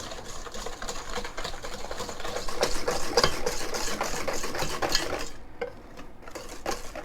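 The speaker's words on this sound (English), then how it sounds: "We got our eggs and we've got our sugar. Whisk these until lightly frothy." Eggs and sugar are whisked by hand in a bowl, producing a fast, continuous rhythmic clatter and scraping of the whisk against the bowl, close and steady, briefly easing near the end, with no talking.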